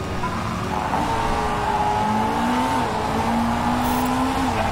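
GT race car engines on a lap in Motorsport Manager, a steady droning whine with pitch rising and shifting as cars run past, loud and continuous with no talking.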